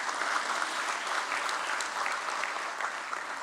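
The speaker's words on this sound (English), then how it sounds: "A big round of applause." Audience applause at a stock exchange listing ceremony for NSDL at BSE, a steady, moderately loud wash of many hands clapping that holds evenly throughout with no voices over it.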